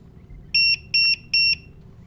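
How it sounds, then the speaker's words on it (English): A QR code module sounds three short, evenly spaced electronic beeps to confirm a settings change, bright and clear above a faint background hum. "now when we change a setting successfully, we should hear 3 beeps"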